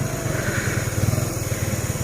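A motorcycle engine runs steadily at night on a dark road, its low, even putter pulsing close by and alone with no talk.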